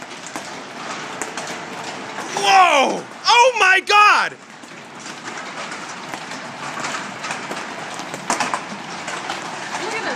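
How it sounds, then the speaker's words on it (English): Large hail pours down during a storm in Dilley, Texas, a loud, dense, steady clatter on surfaces, broken by a person's sudden excited shouts. "it's hailing huge pieces of hail"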